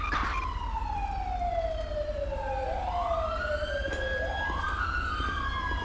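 An ambulance siren in the video game GTA 5 wails in long sweeping rises and falls, loud and continuous over a steady low engine rumble.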